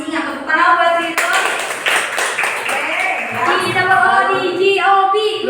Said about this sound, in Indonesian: tepuk tangan buat Ridho